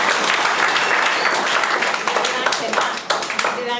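An audience at a church gathering claps for Daniel Kariuki, a dense burst of applause that carries on for several seconds and tapers toward the end, with voices mixed in.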